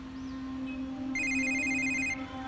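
A phone ringtone sounds as a bright electronic melody of repeated high tones over a constant low hum in a room, starting about a second in and lasting roughly a second before stopping.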